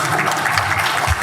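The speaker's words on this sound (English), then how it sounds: "Let's clap with two hands." Conference audience applause at an international economic forum, a loud, dense burst of many people clapping together, close and sustained for the whole moment.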